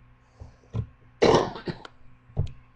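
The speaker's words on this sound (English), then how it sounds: "I just have a cough" Three or four separate coughs, close and fairly loud: two short ones, then a harsher, longer cough with a quick follow-up, and one more after a pause.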